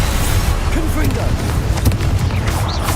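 A Confringo spell explodes during Hogwarts Legacy combat, giving a loud booming burst with crackling impacts over a thick low rumble, and voices faintly present.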